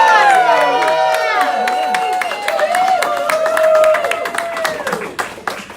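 Loud applause and cheering from a crowd at a city council candidate's campaign launch event, dense clapping with shouts sustained throughout and easing slightly toward the end.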